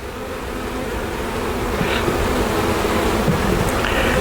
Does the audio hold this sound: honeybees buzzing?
yes